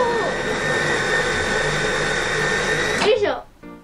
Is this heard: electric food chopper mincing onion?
yes